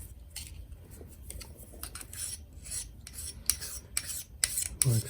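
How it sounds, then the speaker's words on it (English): A blade is drawn across a sharpening stone while dahlia tubers are being prepared, giving quiet, irregular rasping strokes that grow a little louder toward the end, with no talking. "there's a sharpening stone alongside the work, which I use now and again"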